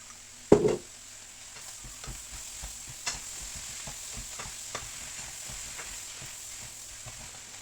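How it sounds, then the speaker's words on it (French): Beef and shrimp noodles being stir-fried in a pan, with steady close sizzling and a loud scrape or clatter near the start followed by repeated light utensil taps and stirs. "Mélanger vite."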